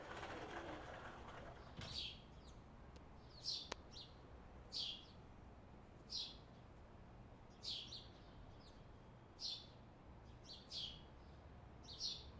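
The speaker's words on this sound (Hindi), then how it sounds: "चिड़ियों की आवाज कितनी प्यारी लग रही है।" Small birds chirp in short repeated bursts about every second, clear but fairly quiet over soft, hushed background ambience with no voices.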